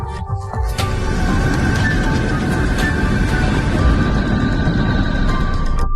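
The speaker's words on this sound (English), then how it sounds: "Neptune." A sonified rendering of the planet Neptune: a dense, rumbling wash of noise with faint sustained tones threaded through it. It is loud and continuous after a brief quieter opening.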